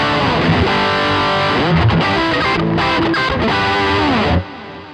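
Distorted electric guitar chords through a Quad Cortex with an echo effect ring out loud and sustained, then cut off, leaving a quieter tail of echo trails.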